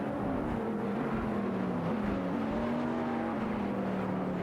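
AI-driven race cars tearing around a circuit in a racing video game, a steady continuous engine drone with a shifting pitch that dips and rises as the cars pass, loud and unbroken throughout.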